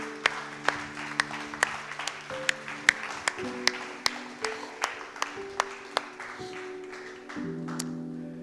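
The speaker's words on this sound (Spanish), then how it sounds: "Vamos a darle un aplauso al Señor." Church congregation applause, a run of distinct, regularly spaced claps over sustained organ or keyboard chords, moderately quiet and fairly close.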